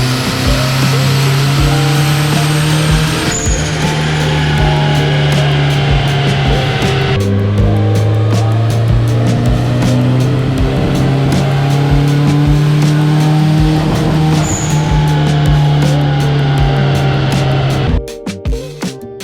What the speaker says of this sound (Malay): dah ada bunyi wastegate